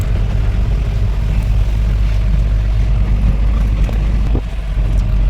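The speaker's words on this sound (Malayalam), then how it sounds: "ഇപ്പോൾ ബസ് ഉണ്ട്, ടൂറിസ്റ്റ് ബസ്സുണ്ട്." A tourist bus passes on a road through wild elephant country in the morning, giving a steady, loud, close engine rumble that briefly dips near the end, with no talking.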